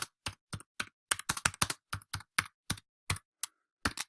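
Someone types a comment on a computer keyboard: a crisp, close sequence of individual key clicks in an irregular rhythm with short pauses, alone and quiet.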